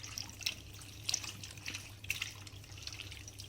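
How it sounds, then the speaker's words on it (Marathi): Running water trickling and splashing over bombil fish in a strainer as it is rinsed, a steady soft wash with a few brighter spatters, close and alone. "आणि हे चाळणमध्ये धुवायचं आहे, कारण का त्याच्यामधलं पाणी पूर्ण नितळून घ्यायचं आहे।"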